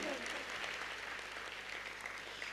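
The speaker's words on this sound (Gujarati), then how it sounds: "આપણે બધા તાળીઓથી એમને વધાવીએ" Audience applause at a student felicitation ceremony, a steady wash of clapping from a crowd that continues evenly throughout, heard at a moderate distance in a hall.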